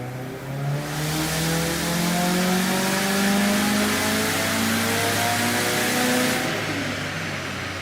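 A turbocharged IAG 750 engine on a car fitted with a Blouch turbo and Link G4x ECU revs at full throttle, a loud rising roar with climbing tones that holds strong, then eases near the end.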